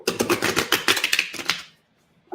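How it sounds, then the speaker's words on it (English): A deck of tarot cards is shuffled by hand, giving a quick burst of crisp riffling and slapping clicks for about a second and a half, then fading to near silence. "let me give the cards a good shuffle and set the timer"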